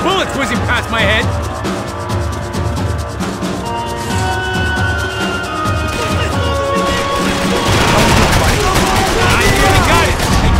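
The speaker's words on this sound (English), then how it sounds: "I can't concentrate with bullets whizzing past my head!" Gunfire crackles through a tense firefight in Max Payne 3, scattered shots and impacts layered under a busy, noisy game soundtrack with voices mixed in, steadily loud throughout.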